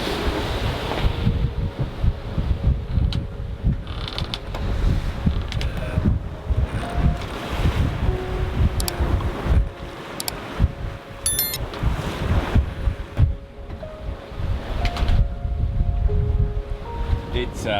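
Wind gusts at sea during a sailing passage home from Svalbard in the High Arctic, with strong buffeting on the microphone, the low rush of waves, and faint tones rising now and then.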